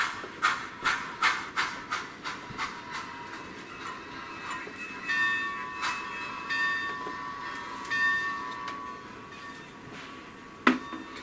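A model Atlantic locomotive with onboard sound runs a lap, giving rhythmic chuffing and clatter at first, then a steady running hum with a bell-like ringing tone and a sharp click near the end.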